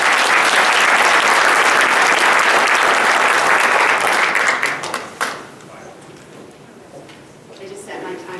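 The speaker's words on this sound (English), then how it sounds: "So let's give a round of applause to Andy Cooper." Loud, dense audience applause for a local speaker at a playground event in Lombard, sustained for about five seconds before tapering into a few scattered claps and quiet murmuring.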